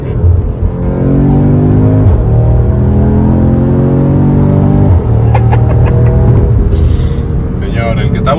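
A sports car engine revs hard and climbs in pitch, drops sharply as it downshifts, then revs again, loud and close with excited voices talking over it.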